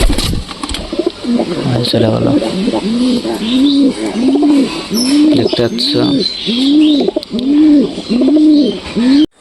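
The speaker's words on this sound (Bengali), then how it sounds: "কবুতরগুলো আমি এখানে রাখছি একটা খাঁচার মধ্যে রাখছি" Caged pigeons cooing in a steady, repeating rhythm of low rolling calls close by, with a few higher chirps mixed in while a person talks over them.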